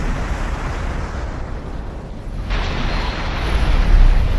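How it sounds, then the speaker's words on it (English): Heavy torpedo hits exploding against a target in a space fleet strategy game, a continuous deep rumbling roar of blasts that swells louder partway through and grows heavier toward the end, with no voices. "The big booms are heavy torpedo hits."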